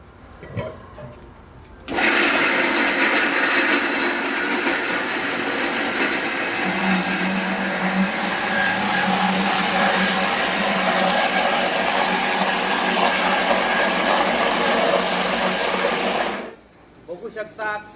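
A heavy-duty 3hp/5hp mixer grinder grinds onion and coconut into a paste, giving a loud, steady whirring roar for about fourteen seconds that starts and stops abruptly, with brief voices before and after.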